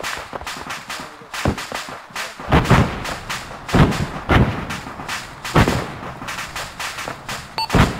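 Repeated gunfire in ArmA 3 aimed at an empty BTR armored vehicle: sharp shots and heavier booming impacts land in irregular bursts, with several loud reports spread across a busy battlefield.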